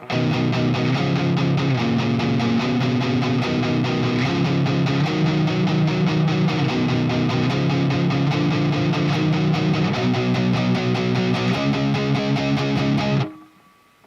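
Electric guitar plays a power chord riff, a dense, distorted, continuous stream of chords that runs loud and steady for about thirteen seconds before cutting off abruptly.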